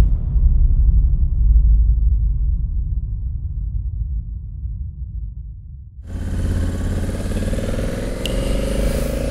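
Motorcycle engine on an overland ride near Nouakchott, a low steady rumble that cuts out midway and then returns with a rougher, broader roar and wind noise, continuous and close.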